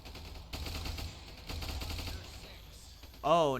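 Rapid bursts of gunfire from Ultimate Epic Battle Sim battle, moderately loud and continuous for a few seconds, ending with a short rising whine or voice-like sound.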